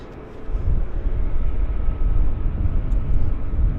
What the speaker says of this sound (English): Korean taxied off stand